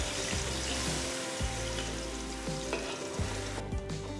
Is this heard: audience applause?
no